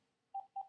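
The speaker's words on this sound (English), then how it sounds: "I apologize for the phone call there." A telephone gives two short electronic beeps in quick succession during a lesson on sine and cosine. The tones are faint and brief in an otherwise quiet room.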